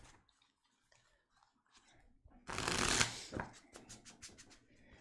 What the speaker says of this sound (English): Do a bit of a shuffle and find out about all this stuff.